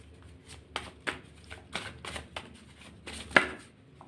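Tarot cards being shuffled by hand, giving soft irregular riffles and slaps in quick succession, close and fairly quiet.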